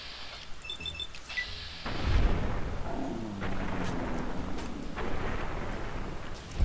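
Booming shotgun blasts from the video game Fallout New Vegas: a heavy, rumbling discharge erupts and rolls on under a dense, noisy game soundscape.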